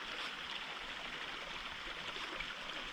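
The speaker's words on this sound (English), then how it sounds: "Angel Falls is, I believe, the largest natural waterfall in the state of Maine." Angel Falls, a natural waterfall in Franklin County, Maine, a steady broadband rush of falling water heard at a moderate distance, constant and unbroken with no voices.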